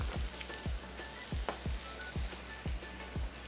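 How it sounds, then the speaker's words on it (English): Onions and shallots saute in a hot steel pan with adobo seasoning, crackling in a steady sizzle punctuated by regular stirring scrapes at an even rhythm. "And saute this around."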